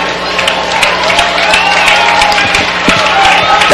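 A high school football crowd cheering at a stadium, a loud, dense roar with whoops and scattered claps that swells slightly and stays continuous, with a voice faintly mixed in.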